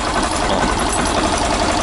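A 2017 fuel-injected Yamaha Factor 125 motorcycle idling steadily and loudly up close, with a rough mechanical rattle from the clutch drum running continuously under the engine note.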